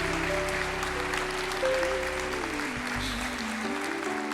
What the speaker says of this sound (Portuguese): Aplauda o Senhor, porque é para isso que a igreja existe.